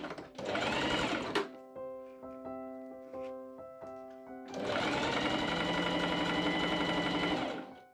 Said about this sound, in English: and machine sew along both side edges